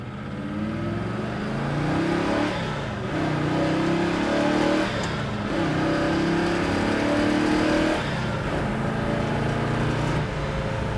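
A 1967 Chevrolet Chevelle SS engine drones loudly while driving, heard from inside the car. The engine note rises and falls through several gear-like swells, with no talking over it.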